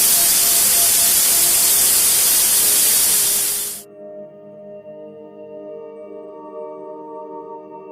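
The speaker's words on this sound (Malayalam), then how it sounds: "അപ്പൊ കുക്കറിന്റെ വിസിൽ കേട്ടതോ?" A pressure cooker whistle, a loud steady hissing blast that cuts off abruptly after about four seconds, leaving a low humming tone behind.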